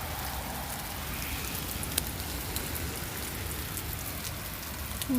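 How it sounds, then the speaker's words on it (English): Heavy rain pours down steadily outside an open window, a dense, even hiss of drops on surfaces that stays loud and close throughout, with no voices. "It's just pouring rain."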